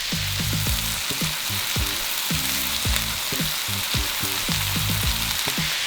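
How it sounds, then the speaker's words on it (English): A mix of mushrooms fries in bacon fat, giving a constant loud sizzle broken by regular scraping and stirring knocks, with no voices. "So what I want to do now is get in with my mushrooms."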